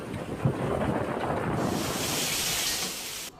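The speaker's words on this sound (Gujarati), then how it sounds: "મોરબીમાં ભારે પવન ફૂંકાતા મિની વાવાઝોડા જેવી સ્થિતિ સર્જાઈ હતી" Strong storm wind gusts in Morbi, Gujarat during unseasonal rains, a loud, steady broadband roar buffeting the microphone for the whole stretch, brightening and hissing more in the second half before cutting off abruptly.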